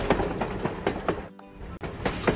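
A cartoon train locomotive runs along the track with a rhythmic clickety-clack of wheels, broken by a brief dip in the noise before the clatter resumes.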